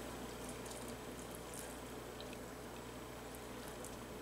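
Water pours steadily over freeze-dried food to rehydrate it for chicken salad, a soft continuous trickling and splashing heard up close and quiet, with no talking.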